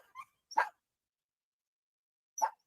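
Two or three short dog barks ring out at home, a quick pair of yips near the start followed by a single bark after a long silent pause, fairly close and clear with no voices.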